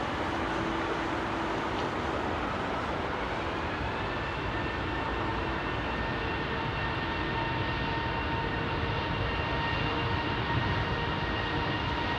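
A Thai Airways Boeing 777-300ER, flight TG911, rolls for departure on Heathrow runway 27R, a steady broadband engine roar heard from a distance with a faint rising whine, unbroken and without speech.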